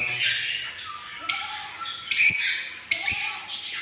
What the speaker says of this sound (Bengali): পাখিগুলো অনেক সুস্থ আছে।